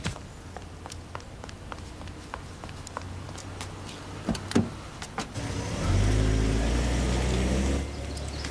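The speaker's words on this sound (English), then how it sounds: "Having trouble with your car," A car engine in a drama scene idles beneath scattered ticking and clicks, then swells into a louder, sustained rev for a couple of seconds before easing back down.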